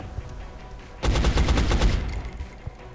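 A soldier firing in XCOM: Enemy Unknown: a sudden loud burst of rapid automatic shots lasting about a second, followed by a few faint thuds and quieter background sounds.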